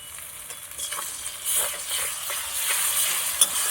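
Onions browned in oil sizzle in a pan, producing a soft, even hiss with faint stirring movements and one small sharp tick near the end.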